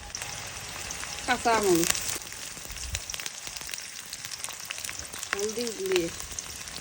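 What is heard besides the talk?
taro frying in oil with onion and spices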